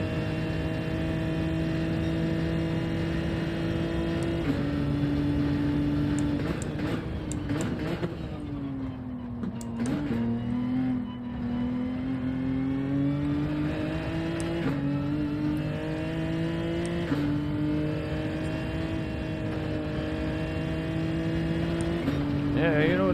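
A race car engine in Gran Turismo 7 drones steadily at speed around 120, pitch shifting up and down through gear changes for the whole stretch, with someone talking over it.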